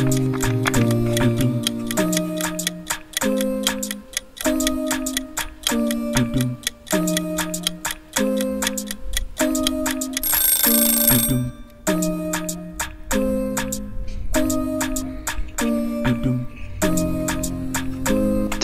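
A countdown timer ticks steadily for a puzzle-box challenge, its regular tick-tock pulses set within a looping musical pattern, with a brief bright chime burst near the middle and no talking.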